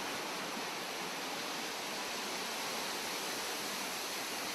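The Ring waterfall in the North Ossetian Nature Reserve's mountains sends up a steady, broadband rush of falling water that stays even and continuous throughout, with no voices.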